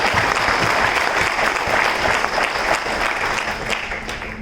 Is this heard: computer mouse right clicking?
no